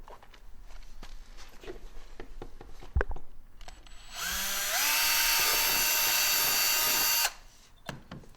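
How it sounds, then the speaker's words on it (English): A few clicks and handling knocks, then a power drill whines up and runs steadily for about three seconds, drilling a hole for a skid plate on a 2023 Ski-Doo Expedition SE 900 ACE Turbo, loud and close, before stopping. "we'll have to drill a hole on the front part here"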